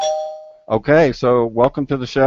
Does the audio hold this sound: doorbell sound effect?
yes